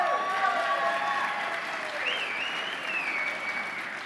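Sustained audience applause fills a conference hall at a Republican Leadership Conference, steady and dense clapping from a large crowd for several seconds, gradually tapering slightly.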